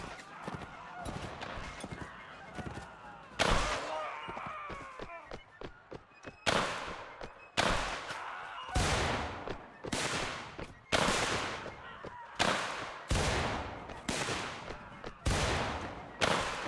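Musket volleys from infantry regiments in a Mount & Blade Warband American Civil War battle, a string of about ten loud, sharp reports with short rattling tails, spaced roughly one to two seconds apart over a murmur of battlefield noise.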